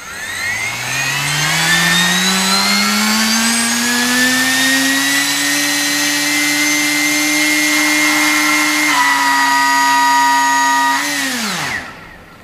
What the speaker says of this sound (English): you'll see the thrust increases and then it decreases when the motor goes out of sync